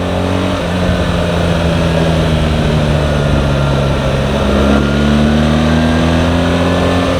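A BMW R1300 GSA motorcycle in manual mode accelerates with a loud, steady engine drone that climbs in pitch, with a gear change partway through, set against strong wind rush.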